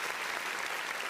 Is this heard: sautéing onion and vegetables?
no